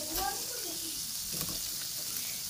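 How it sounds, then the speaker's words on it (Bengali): Koi fish fry in hot oil seasoned with turmeric and salt, giving a constant close crackling sizzle with faint voices murmuring underneath. "মাছগুলো এখন হালকা একটু বাজা দিয়ে তারপর বোনা করবে তো এখানে তেল গরম করে নিয়েছে"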